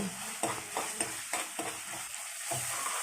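Ginger paste sizzles in hot oil in a pan while being stirred for Nellore-style fish curry, with irregular scraping strokes over a quiet, close frying hiss.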